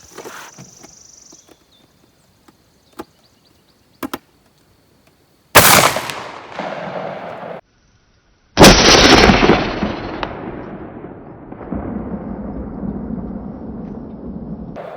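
Two heavy booming shots from a smooth bore 10 gauge shotgun with rifle sights firing 2 7/8-inch sabot slugs, each with a long rolling decay outdoors, separated by quiet stretches with faint ambient noise.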